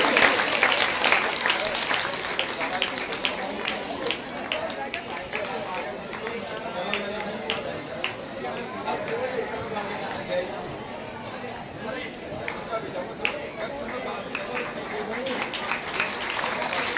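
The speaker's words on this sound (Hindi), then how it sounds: "इन सभी बच्चों के लिए जोरदार तालियां बजाइए आप सभी लोग" Audience clapping steadily for about seventeen seconds to welcome a group of children at a Srimad Bhagwatam katha gathering in Mohan Nagar, Ghaziabad, with crowd chatter mixed into the sustained applause.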